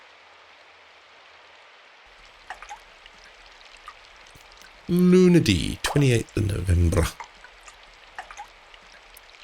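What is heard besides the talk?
rain flowing into a gutter, from the video game Symphonic Rain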